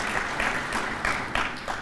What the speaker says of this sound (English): let us give you a quick round of applause